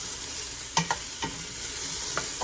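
Vegetables cook in oil over medium heat, a steady close sizzle with a few soft clicks of stirring.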